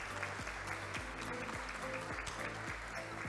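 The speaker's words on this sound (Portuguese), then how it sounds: "todos, nesse instante, com uma salva de palmas, recebessem o vice-prefeito Paulo Sérgio Ferreira" Audience applause at an honorary citizenship ceremony in a Brazilian council chamber, greeting the vice mayor: steady, dense clapping throughout over a low hum, with faint voices underneath.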